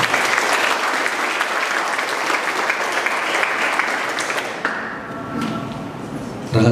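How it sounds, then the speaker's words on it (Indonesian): Applause from an audience at a customer-service training seminar held at a university: dense, sustained clapping from many hands that thins and fades after about five seconds, followed by a sharp thump at the end. "Tepuk tangan untuk kita semua."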